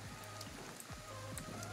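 Rain falls in the video game Ghostwire Tokyo as a soft, faint patter, with repeated gliding game tones and a low steady hum sounding underneath, and no talk.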